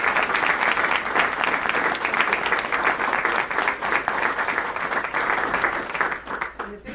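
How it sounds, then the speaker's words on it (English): A crowd at a La Habra School District 50-year cornerstone rededication ceremony applauds school district alumni, with sustained, dense clapping at steady volume that fades slightly toward the end. "I would just like to do a round of applause for our alumni"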